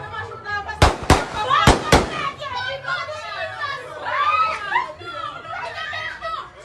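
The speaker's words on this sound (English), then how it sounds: "Members of the law enforcement team had to fire warning shots in the air" Warning shots fired into the air by police during unrest at a funeral in Trelawny: four sharp loud cracks in quick succession near the start, followed by crowd noise, shouting and children's voices.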